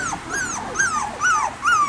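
Young puppies playing outside, giving a run of high whimpers and yips, four or five rising-and-falling cries close by with no talk over them.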